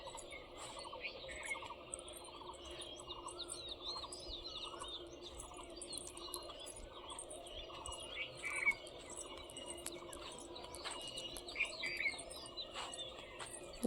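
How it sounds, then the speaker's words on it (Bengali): A dense chorus of many birds chirping and calling continuously in the open air of a tea garden on a foggy day, layered tweets at varied pitches with steady background ambience. "দেখো পাখিদের কলরব কি সুন্দর ডাকছে"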